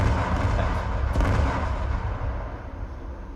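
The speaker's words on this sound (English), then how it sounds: "And secondary explosions going off." Heavy artillery fire and rumbling secondary explosions in the Patrol Ops 4 video game, a dense continuous booming roar that swells near the one-second mark and then slowly fades.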